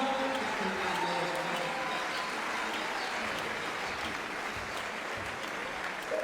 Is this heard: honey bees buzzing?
no